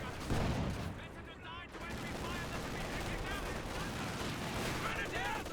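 A light artillery barrage in Company of Heroes 2 rumbles as continuous dense explosions and gunfire, loud and sustained, with a voice speaking over the battle.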